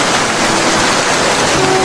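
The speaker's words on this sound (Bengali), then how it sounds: "কুড়ে ঘরের চালে বৃষ্টির একটানা শব্দ" Steady, loud rain drums on a thatched hut roof as a dense, unbroken wash of hiss with no pauses and no voices.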